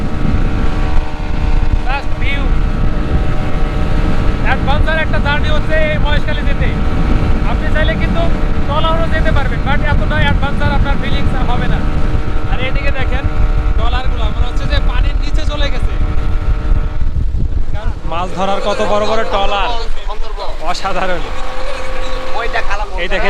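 A speedboat speeds along off Moheshkhali Island near Cox's Bazar, its loud engine drone and rushing wind steady throughout. A person talks over the engine noise almost the whole time.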